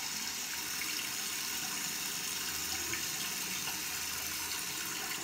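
Water runs steadily from a tap while a face brush is rinsed under it, a constant close splashing rush with no talking.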